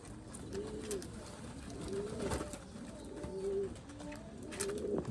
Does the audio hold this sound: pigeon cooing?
yes